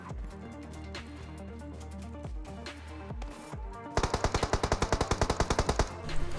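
Rapid gunfire from a fight between two players in PUBG Mobile, with scattered shots early on followed by a loud, fast automatic burst of evenly spaced rounds near the end.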